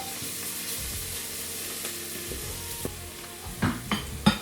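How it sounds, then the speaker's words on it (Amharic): Onion and garlic frying in a pan for a pasta-with-meat dish, a steady close sizzle with a few soft stirring scrapes and utensil knocks near the end, no talking. "ከዛም እንግዲህ ሽንኩርቴ ሲጠበስልኝ ነጭ ሽንኩርቴ እንደዚህ ጨምራለሁ፣ አብሬ እጠብሳለሁ።"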